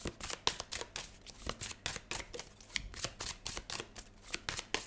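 A Prisma Visions tarot deck is shuffled close up in a quiet room, with repeated soft riffling bursts and card slaps in a steady, uneven rhythm.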